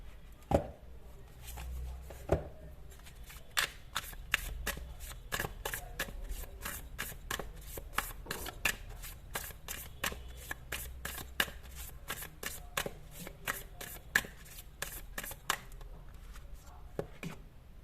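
A tarot deck is shuffled close up, with rapid, fairly regular soft card slaps and riffles running through the whole stretch at low volume.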